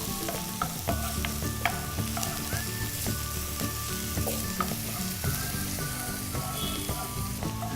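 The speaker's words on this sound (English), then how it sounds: "Next, you can add the celery to this. Just stir fry this for half a minute." Celery stir-fried in a hot wok gives a steady, loud sizzle with repeated clinks and scrapes of the utensil throughout, close up and with no voices.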